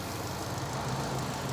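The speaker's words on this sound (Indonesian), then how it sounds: "Dan ini suara mesinnya" A 2013 Chevrolet Spin with a 1500 cc petrol engine idles steadily, a smooth, even, low hum heard up close and alone without any roughness.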